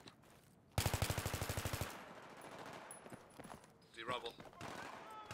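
Automatic gunfire in Battlefield 3 on Seine Crossing, a rapid burst of about a dozen shots, followed by scattered sounds with players talking over it.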